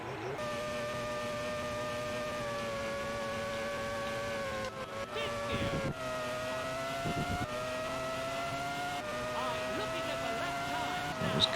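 A race car engine in a racing video game drones steadily at high revs with shifting pitch, dipping and climbing through gear changes and corners.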